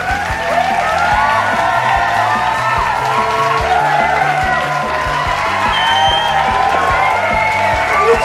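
Studio audience on a Dutch quiz show applauds and whoops for an arriving guest, a steady, loud wash of clapping and cheering with music-like tones running through it.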